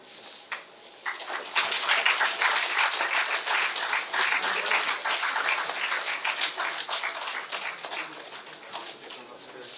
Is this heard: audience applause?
yes